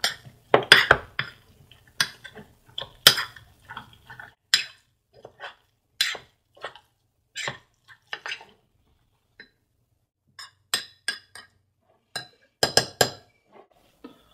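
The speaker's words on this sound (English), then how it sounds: "put it in there also a little bit at a time and kind of stir it all up together" A spoon stirs a hamburger meat mixture in a mug, giving a string of sharp clinks and scrapes against the ceramic in uneven bursts, close and clear, with no voices.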